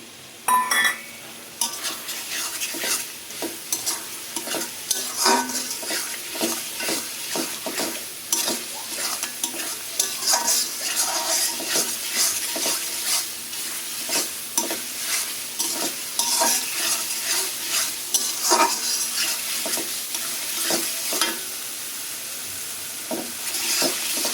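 Spices sautéed with tomato in a pan for khichuri, a steady loud sizzle with repeated scraping stirs of a spoon against the pan throughout, no voices.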